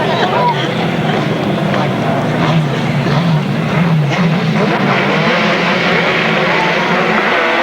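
Grasstrack racing motorcycles roaring away at the start of a race, a loud continuous engine drone with rising pitch from several bikes, under a commentator talking over it.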